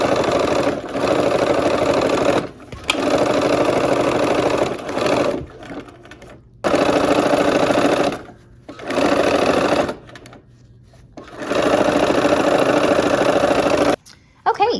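A sewing machine stitches the last seam of a snowflake quilt block, a loud close mechanical whir running in bursts of several seconds, broken by short pauses and restarts.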